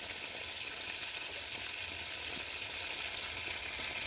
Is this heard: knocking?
no